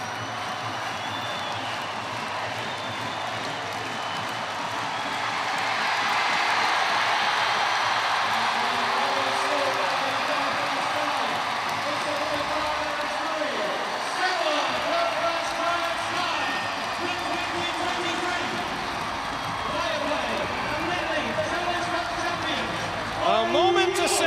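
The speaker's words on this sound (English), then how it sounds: "We'll let the crowd take you home" Arena crowd at the end of an ice hockey cup final won by the Belfast Giants against the Fife Flyers: a loud, sustained roar of cheering and applause that swells and holds, with a commentator speaking over it.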